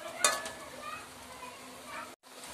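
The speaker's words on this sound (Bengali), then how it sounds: "আলু এবং মশলাটা খুব ভালোভাবে আমি একটু কষিয়ে নেব যাতে মশলা থেকে কাঁচা গন্ধটা চলে যায়" Marinated potatoes and spices are sautéed in a pan for aloo dum biryani, giving a soft sizzle with a sharp clink of the spoon near the start and gentle stirring noises, then a brief cutoff near the end.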